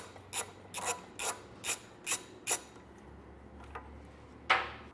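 Ratchet spinning off 10mm nuts on a bracket of a 2020 Jeep Wrangler, six quick bursts of sharp clicking close up, then a brief pause and two more isolated clicks.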